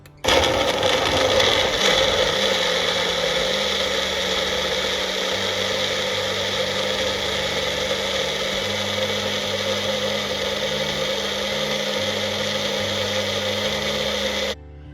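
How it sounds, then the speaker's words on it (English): A Magic Bullet blender whirs through a nutrition drink, a loud steady motor drone with shifting low grinding pulses, running continuously for nearly fifteen seconds before cutting off abruptly. "Let's try to blend this up because I got more stuff to put in there, man."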